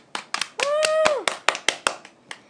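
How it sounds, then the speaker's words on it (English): A few hands clap after a violin performance at a concert, in short uneven bursts mixed with cheerful voices and a whoop, fairly close. "Clap hand."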